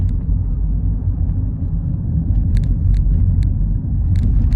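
BMW 218i Gran Tourer driven briskly in sport mode along a twisty road, a steady loud low engine and road rumble from inside the cabin with a few faint clicks, no talking.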